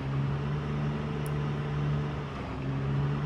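Car engine in the Project Zomboid zombie survival video game, a steady low idling hum that holds at an even level throughout, with no clear rise in revs.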